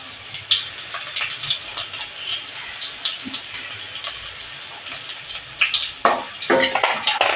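Curry leaves crackle and sizzle in hot oil in a pan while making batata poha, a steady close frying hiss with sharper spits and pops near the end.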